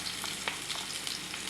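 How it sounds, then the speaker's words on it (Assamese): Onion frying in hot mustard oil in a wok, a steady close sizzle with soft crackles and small pops, no talking. "মিঠাতেল গৰম হোৱাৰ পাছত ইয়াতে মই দি দিছোঁ এতিয়া পিঁয়াজ"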